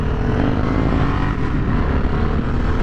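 Stock 2023 Harley-Davidson Sportster S engine running steadily while riding in first gear around a corner, a continuous fairly quiet low rumble with a mellow tone and wind wash, no talking.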